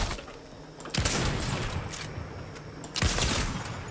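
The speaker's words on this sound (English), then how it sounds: "Oh, I'm getting shot by someone." Gunfire in a video game played on a 2006 Apple Mac Pro, with dense rapid bursts of shots, two sharp loud volleys standing out amid continuous crackling fire.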